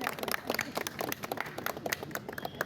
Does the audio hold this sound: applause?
yes